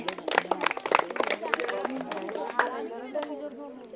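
Schoolchildren at an English-medium high school quiz show break into a short burst of clapping, mixed with lively chatter and children's voices that carry on after the applause fades.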